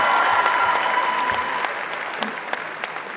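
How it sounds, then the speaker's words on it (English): Audience applause at the Planet Comicon 2019 cosplay contest, a steady broad wash of clapping from a large crowd that fades slightly with a few sharper claps near the end. "Give a round of applause for Glinda."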